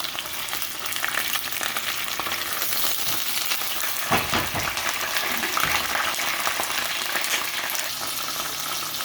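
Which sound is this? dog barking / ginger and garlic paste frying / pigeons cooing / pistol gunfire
ginger and garlic paste frying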